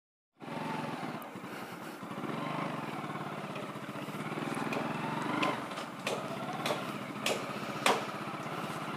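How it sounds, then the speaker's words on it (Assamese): A motorcycle engine that is low on fuel starts up and settles into a steady close idle putter. Sharp knocks and taps from nearby work cut in over it toward the end. "তো বাইকখন ষ্টাৰ্ট দিলোঁ ফাৰ্ষ্ট"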